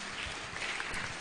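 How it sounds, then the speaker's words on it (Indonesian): Audience applause fills a university public lecture given by Papua's chief prosecutor at UNMUS, a steady broadband clatter of many hands lasting the whole short moment. "kita kasih tepuk tangan."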